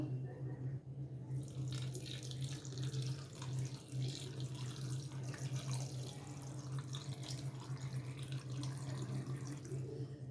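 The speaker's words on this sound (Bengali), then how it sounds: "এবার গরম জলটাও দিয়ে দেবো পরিমাণ মতো।" Hot water pours steadily into a cooking pot of mutton curry, a continuous close splashing gush lasting about ten seconds with no pauses.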